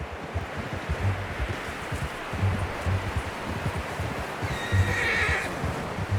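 Horse in the Red Dead Redemption 2 video game, with repeated soft hoof clops and rustling, plus occasional snorts and a whinny, moderately close amid light outdoor ambience.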